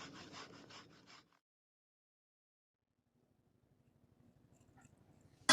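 Jaggery grated by hand for sesame laddoos, heard as a close burst of rapid rhythmic scraping strokes for about a second, then silence, with a faint low rumble creeping back near the end and a sharp knock at the finish.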